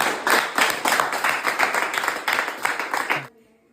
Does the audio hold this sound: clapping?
yes